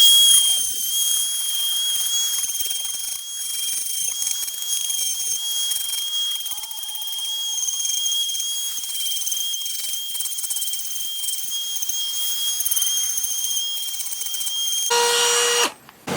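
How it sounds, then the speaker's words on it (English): A Dremel rotary tool with a sanding bit trims the sharp edges of a homemade boffer sword, giving a steady high-pitched whine that runs nearly unbroken before cutting off near the end. "I just have a Dremel. I'm gonna use the sanding bit to trim down these sharp edges real quick"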